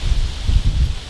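Gusting wind, around 20, blowing down a creek draw while bow hunting in Missouri: loud buffeting rumble close to the microphone with rustling leaves over it, swelling and easing in quick gusts.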